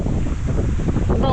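Strong wind buffets the microphone over rough ocean waves while fishing from a small boat at sea, a loud continuous roar with no talking.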